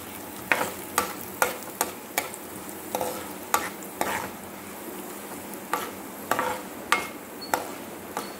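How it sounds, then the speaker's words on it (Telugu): Mustard seeds, chana dal and other tempering seeds fry in hot oil with a steady sizzle, broken by a regular series of sharp scraping stirs from a spoon in the pan. "శనగపప్పు, అవన్నీ తాలింపు గింజలు అన్నీ వేసుకోవాలండి. వేసుకొని ఫ్రై చేసుకుందాం."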